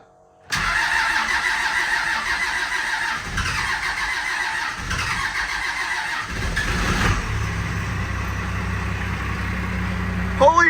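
Cummins diesel engine with a hot-wired VP44 injection pump cranks and catches, then runs on in a rough, steady loud clatter close by, with excited voices over it.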